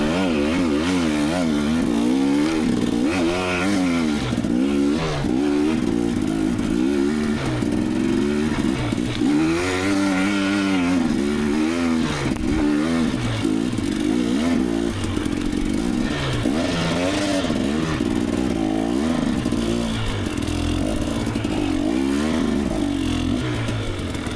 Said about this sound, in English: The old 2019 KTM 250XE got a workout in this one.